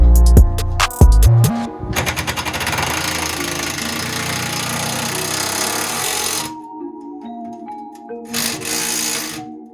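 An impact tool drives a bolt into a footwell panel on a Can-Am Outlander 850 XMR, loud and close, with short bursts followed by a long sustained rattling hammer that cuts off, then a brief final burst.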